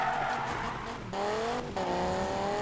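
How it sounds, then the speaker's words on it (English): A modified SRT Viper drifting in Need for Speed 2015, engine roaring loudly as tires squeal in long sliding whines, with brief gear-shift dips in the engine note. "the back will step out a little bit, and that means we're gonna get some drifting to happen"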